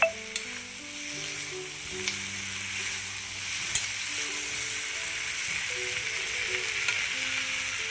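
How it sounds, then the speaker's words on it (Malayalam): Okra (ladies finger) stir-fried over full flame, a steady close sizzle and crackle with light stirring sounds throughout, no voices. "നമുക്ക് അഞ്ച് മിനിറ്റ് ഫുള്ളിൽ തന്നെ ഇട്ട് ഇളക്കിക്കൊണ്ടിരിക്കണം"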